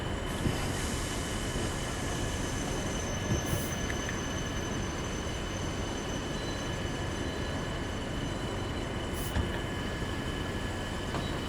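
A Class 40 diesel locomotive hauling loaded oil wagons in Train Sim World 3, rumbling steadily with a constant wheel and brake hiss, moderate and even throughout, with no voices.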